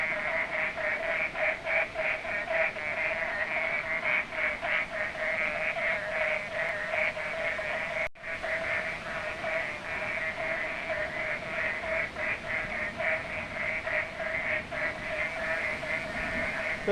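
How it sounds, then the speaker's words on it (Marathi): Many frogs call from a river after the first monsoon rain, forming a dense, steady chorus of rapid pulsing croaks that runs unbroken throughout, moderately distant and with no one talking. "नदीमध्ये बेडूक आहेत, ते भरपूर ओरडत आहेत"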